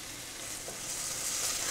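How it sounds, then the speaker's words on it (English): Tomato paste, onions, garlic and dried thyme sizzle in a pan for lentil soup, a steady soft frying hiss with gentle stirring, growing slightly louder, no talking. "I'm stirring that all up."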